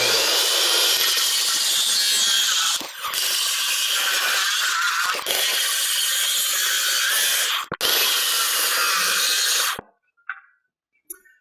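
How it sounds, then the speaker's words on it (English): A saw cuts steadily through a wooden deck stair stringer, its rough rasping strokes loud and continuous for nearly ten seconds with a couple of brief pauses, then falling to quiet scattered handling noises at the end. "So I'll go ahead and just cut this bottom part out here"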